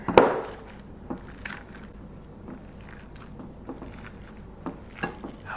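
Seasoned ground lamb and beef being mixed by hand for sausage, with soft wet squishes and faint pats spaced irregularly, quiet and close after one louder initial slap.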